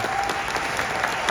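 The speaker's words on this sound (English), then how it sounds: "Let's get another round of applause for" A live audience at a film Q&A breaks into steady, dense applause, many hands clapping at once in a hall, sustained and even throughout.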